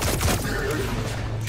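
Gunfire shooting at the player in Destiny 2: a dense, continuous burst of rapid shots and impacts, loud and close, with faint voices mixed underneath.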